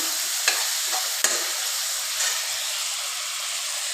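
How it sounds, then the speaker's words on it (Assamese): Chopped tomatoes frying with chicken in a pan, giving a steady, close hiss of sizzling with a few sharp spatters and stirring knocks, with no voices. "বিলাহী দি দিছোঁ, অলপ কুটি পেলাই দিছোঁ।"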